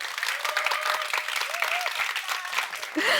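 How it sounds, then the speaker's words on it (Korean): An audience at a Korean talk lecture breaks into steady, fairly loud applause, dense clapping sustained for about three seconds, with a few voices rising briefly over it. "한번 박수 쳐주시지 않으시겠어요?"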